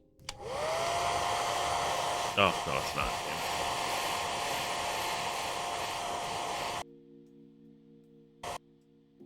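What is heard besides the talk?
hair dryer running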